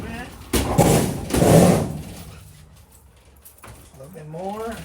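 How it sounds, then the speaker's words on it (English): A door shuts while movers shift a vending machine, with two loud metallic bangs and rattles up close, followed by quieter clunks and a voice talking. "You can close the door now."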